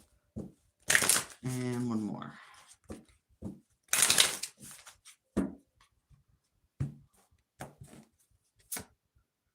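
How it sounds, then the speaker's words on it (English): A deck of tarot cards is shuffled in several short bursts of riffling and flicking, close and fairly quiet, with brief speech between the bursts. "Let's give it a good shuffle."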